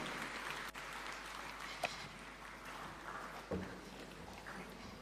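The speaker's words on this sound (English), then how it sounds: "Why don't we put our hands and give him a warm welcome with a clap as he comes to make his remarks" An audience at a fertiliser and soil health summit at KICC in Nairobi applauds a speaker, a steady, soft, distant wash of clapping that carries on throughout.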